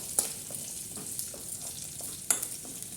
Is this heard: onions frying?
yes